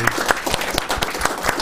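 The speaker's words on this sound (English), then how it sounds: "A huge round of applause." A seminar audience applauds at the close of a talk on language and technology, a steady patter of many hands clapping close by with no break, filling the short moment alone.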